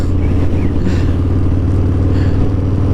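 A new motorcycle's engine while riding with the throttle released, a steady close low rumble and drone with faint clatter, continuous and loud throughout without any talk.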